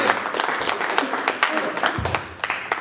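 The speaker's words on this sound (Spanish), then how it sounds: "Demos un aplauso a nuestra hermana." A church congregation applauds during a testimony gathering, scattered uneven claps at moderate volume, fairly sparse and short, with some background voice.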